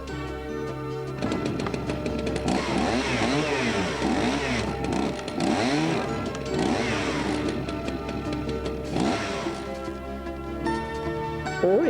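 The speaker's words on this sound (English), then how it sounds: "Your idea could mean more safety for staff, like the chainsaw testing frame" A chainsaw runs steadily in a testing frame, its engine a loud, continuous buzz with repeated rises and falls in pitch over about ten seconds, heard alone.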